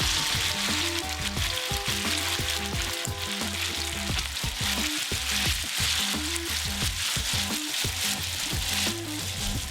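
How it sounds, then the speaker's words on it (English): Pasta is stirred through hot oil and garlic in a pan, giving a steady, close sizzle and frying crackle with soft scraping, continuous for about ten seconds under a low musical background. "Add pasta to pan of oil and garlic and stir until mixed."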